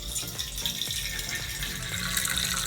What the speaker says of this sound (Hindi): तो मैंने इसमें लिया है इतना सा पानी.